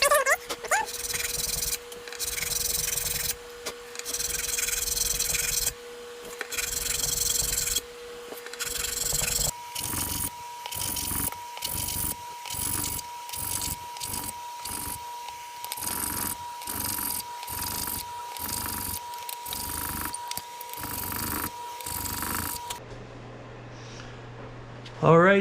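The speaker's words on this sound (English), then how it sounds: "I just did a little sanding with, I think this is 200 grit, like foam sandpaper" A guitar fret is rubbed with 200-grit foam sandpaper in quick, repeated back-and-forth strokes, close and scratchy, with a faint steady hum underneath.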